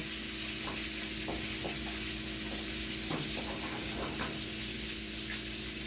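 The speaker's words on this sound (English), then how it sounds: "It's more like letting the steak kind of ride the butter rather than basting." Beef filet steak fries in melted butter with rosemary, a dense continuous sizzle close to the pan, steady and loud, with small pops and spatters now and then.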